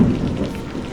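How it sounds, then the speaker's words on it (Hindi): Heavy rain pours steadily while deep thunder rumbles low beneath it, a dense, loud storm wash with no voices. "तभी एक बहुत जोर की बिजली कड़की"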